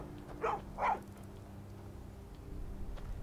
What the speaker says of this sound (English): Does this dog attack?